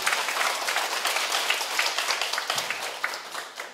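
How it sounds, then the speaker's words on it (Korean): An audience at a Catholic retreat and Mass claps together in a sustained burst of applause, dense and steady at moderate distance with individual claps poking through. "아유, 박수."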